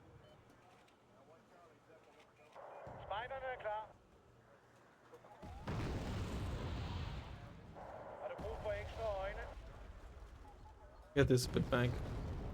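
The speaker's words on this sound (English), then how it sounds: "Really go for a mortar?" Heavy mortar explosions in a video game boom with deep rumbling blasts, one sustained roar followed by a sharp loud burst near the end, while a person talks intermittently between them.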